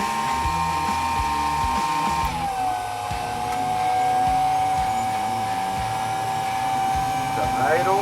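A jet engine on a test setup spools up from start toward idle, a loud close turbine whine that holds a steady pitch, dips, then settles over a rumbling roar, with voices speaking faintly underneath.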